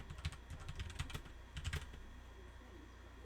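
Close, moderately quiet typing on a computer keyboard, two clusters of rapid clicks with a short pause between, then trailing off into quiet.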